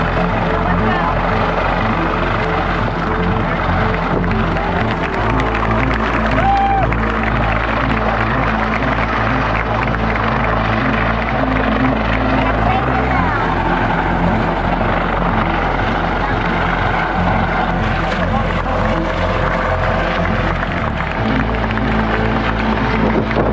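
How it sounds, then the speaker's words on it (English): Coast Guard helicopter hovering over the open ocean during a medical airlift from the Carnival Sensation cruise ship, its steady loud rotor thump and engine drone filling the whole stretch without a break. "Guard helicopter rescue in the middle of the ocean from Carnival Sensation ship"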